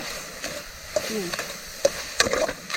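A spatula scrapes and stirs ingredients dry-roasting in a pan for an Isan taro curry with field crab, soft sizzle under intermittent clicks of the utensil, with a voice murmuring in the background.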